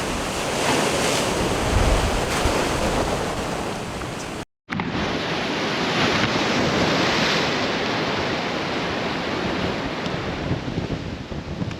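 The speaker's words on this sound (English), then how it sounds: "These waves are coming in powerful enough to just lift and crack these giant pieces of concrete, destroying this driveway." Powerful storm-driven ocean waves crashing on the beach at Buxton on the Outer Banks, a loud continuous roar of surf with heavy wind noise buffeting the microphone and a brief cut midway.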